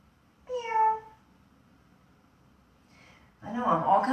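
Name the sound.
person imitating a cat meowing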